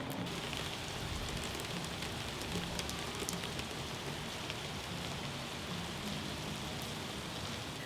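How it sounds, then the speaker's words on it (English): Rain patters steadily against cottage windows in spring, a soft, even wash of drops with occasional sharper taps, continuous and fairly quiet throughout. "We woke up to the beautiful sound of rain hitting the windows."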